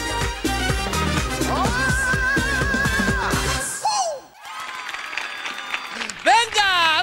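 A studio audience and children claim rhythmic clapping on cue as a guest says goodbye on a Spanish-language TV show. Loud clapping and cheering mix with music and overlapping voices, and yells and whoops rise near the end.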